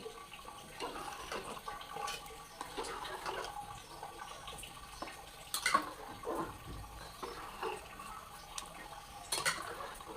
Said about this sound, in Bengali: এখন দিয়ে দিচ্ছি হচ্ছে মাংসের ঝোলটা মিশিয়ে নেব খিচুড়ির সাথে